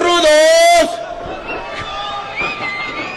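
At a lucha libre wrestling show, a loud, sustained shout from a crowd for about a second, then a noisy hall murmur with scattered calls and chatter.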